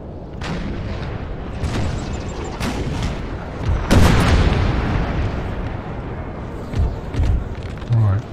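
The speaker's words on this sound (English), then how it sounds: "stop canister fire at will" Canister artillery fire in Napoleonic Total War III during the Peninsular Campaign: booming cannon blasts and crackling bursts, one especially loud, over busy battle noise, with a voice talking throughout.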